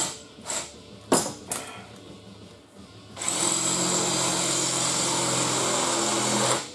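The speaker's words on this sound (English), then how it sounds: "Get out the old drill doctor and do some sharpening" A Drill Doctor drill bit sharpener grinds in a workshop: a few short taps and bursts at first, then a loud, steady motor whine with grinding that runs for several seconds before stopping.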